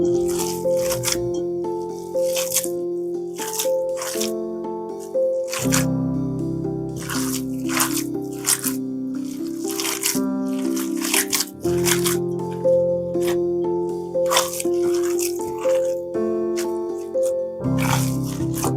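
Bare hands knead ground meat and vegetables for burgers, making repeated wet squishing and slapping sounds in an uneven rhythm, close up, over a steady background of soft music.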